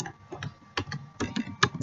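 Quick, light key taps on a computer keyboard come in short irregular bursts, close by and fairly quiet, while a report heading is entered in MS Access.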